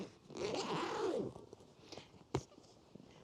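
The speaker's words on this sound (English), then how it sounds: "The main zipper is actually really quite good." A single zip along the main zipper of a Nomatic McKinnon 35L V2 backpack, a close, rasping pull of about a second, followed by a few faint handling clicks and one sharp tap.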